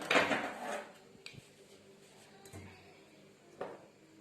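A spoon scoops maida flour into a bowl in a home kitchen while a cake-style lockdown recipe is measured out, giving a few soft, faint taps and scrapes spaced a second or so apart.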